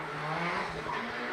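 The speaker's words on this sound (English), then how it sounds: "A nice lap for Andrew Redwood, powering out of the final corner." A drift car in D1NZ Pro Championship qualifying at Tauranga powers out of the final corner, its engine roar and tire squeal filling the track. The sound is steady and loud throughout.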